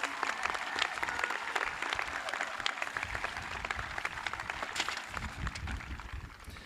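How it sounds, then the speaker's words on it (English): A crowd applauds at a 2020 high school graduation ceremony for Blue Valley North, dense continuous clapping from a large audience that holds steady and fairly loud, with scattered voices faintly mixed in beneath. "Yeah, that's an applause line"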